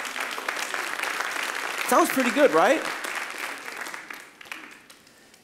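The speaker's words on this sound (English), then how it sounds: "it's worth a clap" Congregation applause during a church sermon, a short burst of clapping that swells then fades as a voice speaks over it.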